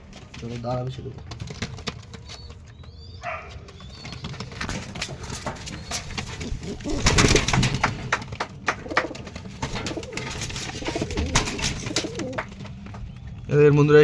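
Domestic pigeons coo and flutter nearby, their soft, repeated calls mixed with handling noise and faint background voices.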